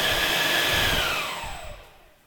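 Exhaust cooling fan motors with aluminum blades, spun up to about 52,000 RPM, give a loud close whine with a high tone that sweeps downward as they spin down and fade over about two seconds.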